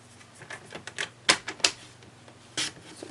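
Paper trimmer slicing through a sheet of cardstock to cut squares, giving a few sharp, close cutting strokes and clicks in a quiet room, with a couple of louder bursts in the middle and another near the end.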